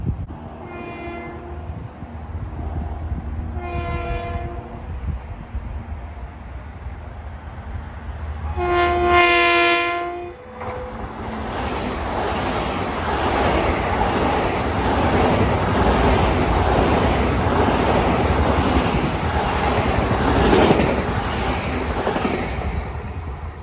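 An LIRR M7 electric multiple-unit train sounds several horn blasts, then roars past at speed with a loud sustained rush of wheels and air that holds to the end.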